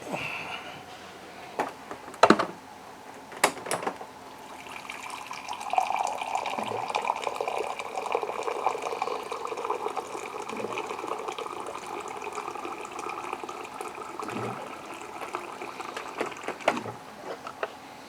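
Hot water poured from a kettle into a mylar bag of freeze-dried steak fajitas and fried rice makes a steady near rushing hiss, with a few sharp clicks and knocks near the start.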